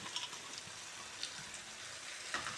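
Chapati pieces are stirred into fried masala in a hot pan for chilli chapati. A steady close sizzle is broken by a few light scraping stirs, with no voices.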